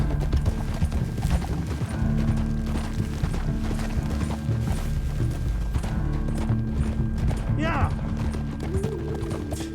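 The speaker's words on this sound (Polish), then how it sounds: "A my sobie jeździmy tak na koniu." Horse hooves clip-clopping during a ride across rocky ground in the video game Red Dead Redemption 2, a steady rhythmic clatter with rain, music and a brief whinny, while someone talks over it.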